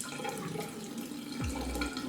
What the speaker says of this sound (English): So I'm just going to wet my fingers.